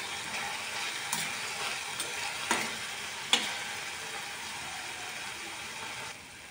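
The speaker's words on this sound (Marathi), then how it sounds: "आपला कांदा छान परतून झालेला आहे" Onion fries in a pan with a soft, steady sizzle, broken by a few light scrapes and taps of a spatula stirring, quiet and close.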